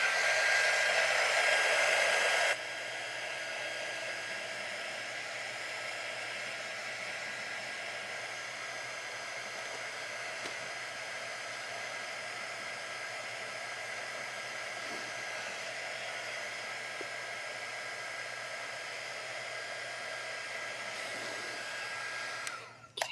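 A hair dryer blows on a craft snowman, starting at a louder setting for a couple of seconds and then dropping to a steady, even whir that runs close and continuous before cutting off at the end.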